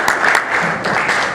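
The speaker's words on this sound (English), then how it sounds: "A round of applause, please." Crowd applause at a press conference, a dense close wash of many hands clapping that holds steady at full volume throughout.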